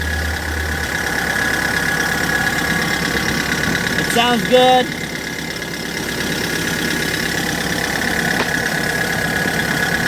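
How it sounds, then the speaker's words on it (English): A Kia Bongo 3 King freezer truck with a manual diesel engine idles in a steady, even rumble close by. Someone talks over it, with a brief clatter near the middle. "Alright, so the engine is running now."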